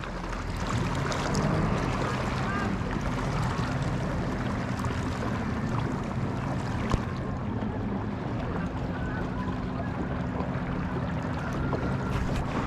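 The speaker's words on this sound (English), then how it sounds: "I have my motor going, making a circle" A motor runs steadily on a pontoon kayak circling on the water at Elephant Butte, heard as a constant close wash of engine and water noise with no talking.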